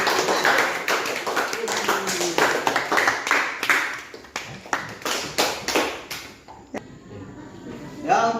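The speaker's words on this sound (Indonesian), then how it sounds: "mari kita beri tepuk tangan untuk kelompok 1" Students in a classroom clap for a group, giving a burst of hand-clapping applause with sharp claps repeating through most of the stretch before it thins into a few scattered slaps and knocks.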